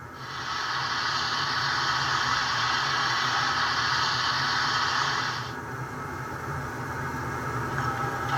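A steady, loud hiss of steam release from the sound decoder of a Bachmann HO scale Class J #611 model locomotive, lasting about five seconds before cutting off to a quieter background.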